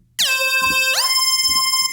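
Dry synthesizer patch with no phaser or reverb, for a song's lead: a bright, buzzy sustained tone that enters with a rising pitch sweep, swoops again near the one-second mark, then holds steady and loud to the end.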